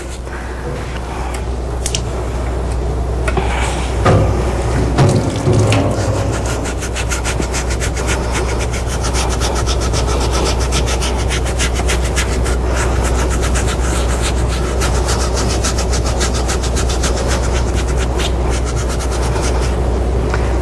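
A surgical scrub brush rubs back and forth over a forearm during a sterile hand scrub, a steady close bristly scratching with rhythmic strokes over a low constant hum of running water or ventilation.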